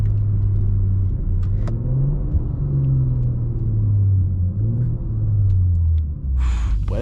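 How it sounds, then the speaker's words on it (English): BMW M340i with a catless downpipe drones with a deep exhaust rumble heard from inside the car, rising and falling in pitch as the turbo spools, with a brief whooshing burst near the end. "Boy, that turbo spool is something serious."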